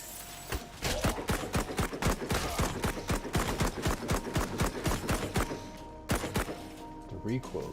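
Rapid, regular gunshots from a heavy-recoil gun in the video game Memories of Mars, close and loud, firing in steady bursts for most of the stretch with a brief pause near the end.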